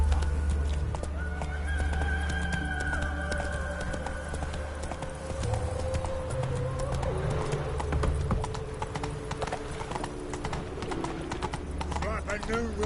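A horse in a PS4 video game, with loud, rapid hoofbeats of a gallop and repeated whinnies and neighs over background game music, while a person talks over it.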